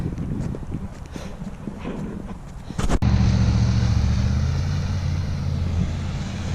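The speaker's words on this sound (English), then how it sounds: "That Durango had a nice sounding exhaust." A Dodge Durango passes on a countryside road in a winter storm, its exhaust rising from a distant rumble to a loud, close, steady drone after a sharp whoosh, with footsteps and wind around it.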